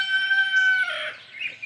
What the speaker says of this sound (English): The birds and the chickens are going nuts this morning